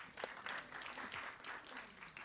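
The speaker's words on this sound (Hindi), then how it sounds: "उसके लिए तो डबल ताली बजाइए" Audience applause at a Bollywood film trailer launch event, a dense wash of clapping from a crowd that holds steady and fairly loud throughout without a break.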